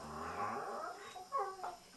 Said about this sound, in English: Enjoy the puppy ASMR. They're gonna make very fun noises.